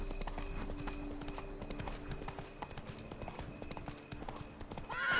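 Hooves pound in a rapid, steady clip-clop as a horse gallops in The Witcher 3, with a faint whinny and a continuous rumble of movement, fairly quiet and mixed with game ambience.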